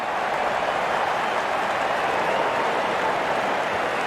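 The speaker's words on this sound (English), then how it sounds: "Crowd on their feet to cheer the moment." A dense crowd at a cricket match cheering and applauding, a steady, loud wash of noise that fills the whole stretch without a break.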